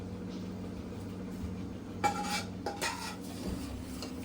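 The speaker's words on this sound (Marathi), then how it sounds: "पटपट मिक्स करून घ्यायचंय खवा पूर्ण वितलून द्यायचा आहे" Khoa is stirred into milk in a pan for basundi: a low steady simmer hum, with a few clinking scrapes of a spoon against the pan partway through.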